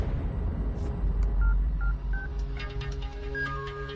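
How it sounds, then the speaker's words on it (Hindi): Electronic phone tones in a movie scene: short beeping notes in a melodic pattern, with a low musical drone beneath. "रिंगटोन अच्छी है।"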